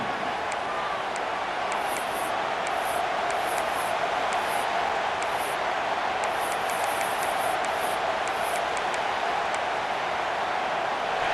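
Georgia fans roar in a packed college football stadium against Boise State on third down, a dense, steady crowd wash with whistles and shouts, continuous throughout.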